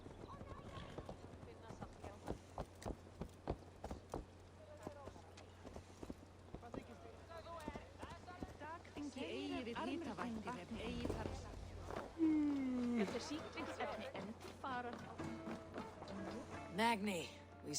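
Horse hooves clip-clop at a walk in the video game Assassin's Creed Valhalla, steady rhythmic steps joined by a whinny and snorts, with voices talking over the scene and game music underneath.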